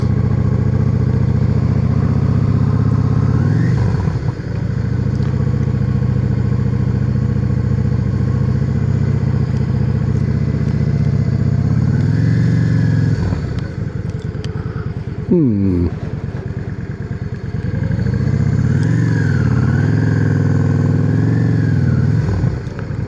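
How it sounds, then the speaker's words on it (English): Engines drone loudly throughout at a roadside cafe in Holmrook, with a few rising revs as motorcycles pass or idle nearby, and a clattering bump partway through. "Motorcycles."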